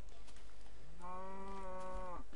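A cow moos once in a Minecraft game, a single drawn-out low call rising over steady background game noise.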